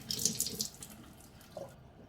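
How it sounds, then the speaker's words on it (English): Tap water runs into a sink during a water ionizer cleaning rinse, a soft steady hiss with louder splashing bursts at first that settles into a faint continuous flow. "So I'm gonna now run my water"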